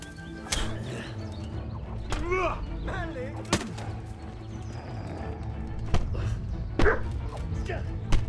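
A dog barks repeatedly in Kingdom Come Deliverance, short bow-wow yaps scattered over several seconds under someone talking, with sharp percussive game sounds like gunshots breaking in.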